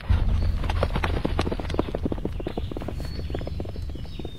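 Horse hooves clip-clop at a walking pace in the video game To The Moon, a steady stream of close, distinct hoofbeats over outdoor ambience with faint bird calls.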